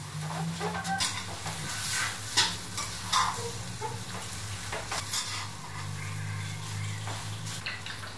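Pad see ew with pork being stir-fried in a pan: steady close sizzling with repeated scraping and clattering stirring strokes throughout, no voices.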